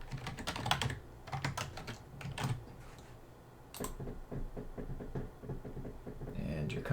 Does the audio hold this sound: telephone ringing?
no